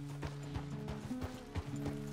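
Horse hooves clip-clopping at a steady walk in the video game Red Dead Redemption 2, with evenly spaced hoof strikes over a low sustained musical drone and a faint snort.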